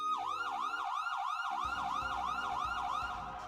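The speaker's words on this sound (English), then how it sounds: "And we'll be hearing sirens in my ear in 3," Video game siren wailing in a fast, regular up-and-down cycle, loud and continuous, with a low engine-like rumble joining partway through and no voices.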